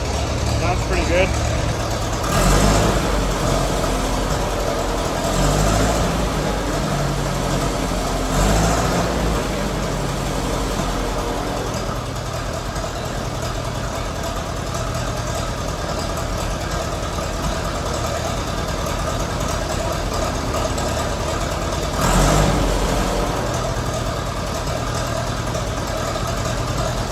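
An antique Massey Ferguson TEA 20 tractor engine, just repaired after carburetor trouble, idles steadily and fairly loud throughout, with a constant low rumble and brief louder surges, while people talk over it.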